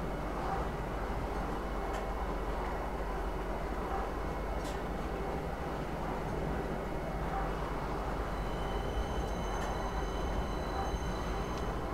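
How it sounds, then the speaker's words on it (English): A tram ride in the video game Star Citizen, heading toward a spaceport: steady, continuous rolling rumble with faint rail clatter and occasional high ticks, even and moderately loud throughout with no talking. "this train ride takes just over a minute to actually get there"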